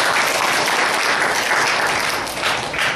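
A church congregation claps together during a sermon, a dense, steady wash of hand clapping at close range that holds through the whole stretch with only slight swells and dips.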